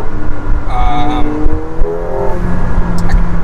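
A McLaren 720S Spider engine and exhaust drone and rise in pitch as it accelerates, loud and close, with a voice talking over it.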